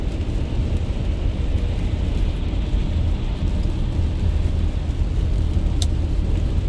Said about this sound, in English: So happy to have rain.